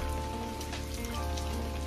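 Rain falling outdoors beneath a tree, a steady, even patter of drops on leaves and surfaces that continues without a break, with no voices.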